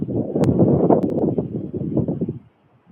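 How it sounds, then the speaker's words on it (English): Gusty outdoor wind buffets the microphone in a steady low rumble for over two seconds, then drops away into near silence. "Kind of windy today."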